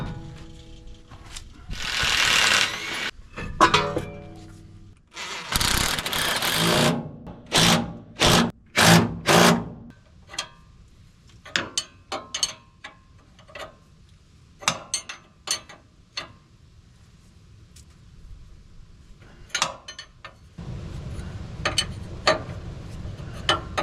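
Lug nuts on a Loadstar truck wheel are run down with a ratcheting wrench: bursts of rapid clicking alternate with pauses, single metallic clanks and a short buzzing tool run, all near and fairly loud.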